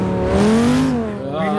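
A muscle car, a V10 Mustang build, drives through Prague in Forza Motorsport 6, its engine tone rising and falling as it accelerates and eases off, loud and close with faint tire noise.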